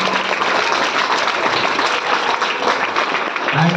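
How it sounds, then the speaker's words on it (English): An audience at a Diwali celebration claps in loud, dense, continuous applause for the full stretch, with no pause and no clear voices over it. "Give a big round of applause for them."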